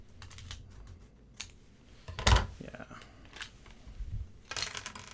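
Scissors snip open a plastic LEGO Monsters minifigure bag, giving a few sharp crinkly cuts and rustles close by, the loudest burst midway, with a voice briefly in the background.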